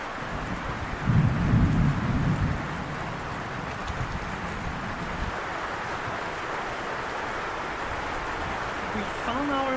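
A thunderstorm with lightning rolls over mountain rice terraces in Luzon, Philippines: a low rumble of thunder swells early, then heavy rain hisses steadily throughout.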